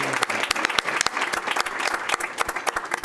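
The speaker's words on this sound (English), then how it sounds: "please give them another round of applause" Steady applause from a crowd at a school board meeting fills the room, many hands clapping continuously at an even level throughout.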